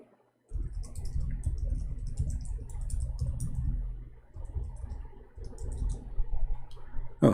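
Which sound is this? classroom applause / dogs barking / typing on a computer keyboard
typing on a computer keyboard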